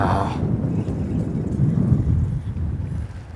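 Strong wind blowing outdoors on the water during fishing, a steady low roaring rush buffeting the microphone throughout, loud and close.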